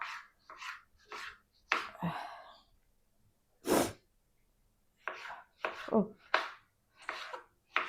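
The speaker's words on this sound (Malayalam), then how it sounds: "തക്കാളിയും വേറൊരു പാത്രത്തിലേക്ക് അരിഞ്ഞെടുക്കാം" A knife chopping tomatoes on a board, producing a series of distinct sharp knocks in irregular bursts with pauses between them, close and fairly loud, with some breathy sounds mixed in.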